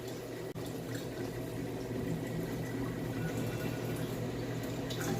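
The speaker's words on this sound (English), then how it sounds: "I'm going to show you guys why I'm doing this water change here in just a minute." Water sloshes and pours steadily during a water change in a betta fish tank, a constant close, moderate wash over a low hum, with one brief dip near the start and no talking.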